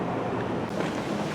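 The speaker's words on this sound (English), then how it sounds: "This wind is killing me." Loud, steady wind of 35 miles per hour plus roaring and buffeting the microphone outdoors, a dense rushing noise with no pauses.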